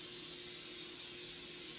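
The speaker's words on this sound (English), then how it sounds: "I'm going to spray this with a little more cooking spray." A can of cooking spray hisses in one steady, continuous burst close by, a faint even spray of aerosol oil greasing a baking surface for cream puffs, with no talk over it.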